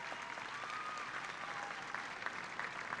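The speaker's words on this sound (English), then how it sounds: "You can clap now." Audience applause at the Dekaney High School 2021 graduation ceremony, a dense steady wash of many hands clapping from a large crowd, moderately distant and sustained throughout.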